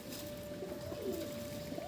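Pigeons kept for sale in a loft coo softly, a faint low burble with a steady hum running underneath.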